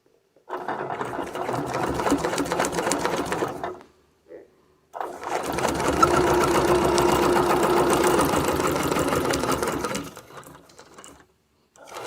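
A sewing machine stitches along a reference line in two quick, rhythmic bursts separated by a short pause, the needle's rapid chatter loud and close with no talking.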